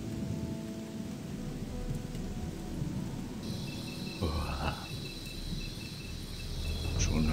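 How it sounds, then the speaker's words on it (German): Crickets chirp at night in the video game Odyssee, a dense, steady insect trill layered over low rumbling ambience, with a brief shuffling noise in the middle. "Schon hören wir die Grillen zirpen"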